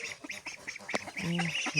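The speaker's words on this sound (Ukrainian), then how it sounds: "тут у нас ось менші каченятка" Small ducks quack and peep in quick bursts, close by, with a longer nasal call near the end.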